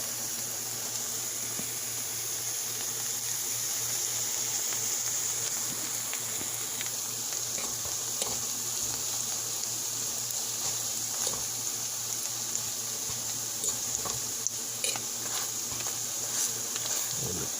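Omelette frying in a pan on a Jamaican-style breakfast stove, a steady faint sizzle with a soft hiss and occasional small crackles throughout.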